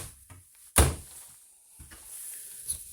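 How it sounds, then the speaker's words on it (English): A cabinet door in a 2019 Montana 3121RL RV swings shut with a single firm close thunk, then quieter rustling and faint handling noises follow in the quiet interior. "Doors open and close nicely."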